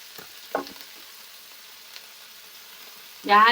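Mustard greens drop into a hot garlic and dried chilli tempering, bursting into a loud sizzle at the end after a few quiet clinks and faint stirring sounds.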